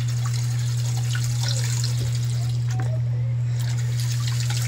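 Water runs from a tap in a thin steady trickle, close by, over a constant low electrical hum.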